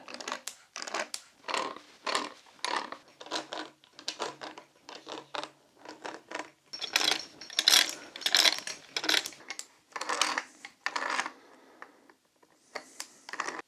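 Plastic pipe fittings of a ram pump kit are twisted snug one after another, producing a steady series of close, short scraping and ratcheting bursts with brief pauses between them.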